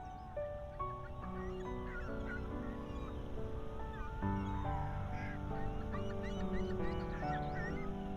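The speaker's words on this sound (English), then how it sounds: "Fucking seagulls ruining the moment." Seagull cries in Final Fantasy XIV sound over a soft sustained musical backdrop, several short squawking calls scattered across the passage, fairly faint beneath the tones.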